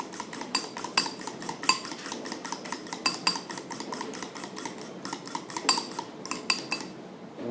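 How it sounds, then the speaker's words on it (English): Egg yolks whisked together with egg whites in a bowl, rapid steady metallic clinking and tapping of utensil against the bowl, close and continuous for several seconds with a brief pause near the end. "Mix up the yolks with the egg whites."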